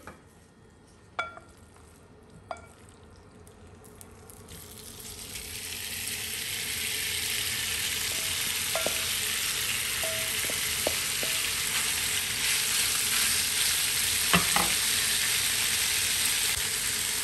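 Beef browning in olive oil in a pan for a beef and onion sauté, a few sharp utensil clinks at first, then a rising steady sizzle that settles into continuous frying with occasional taps.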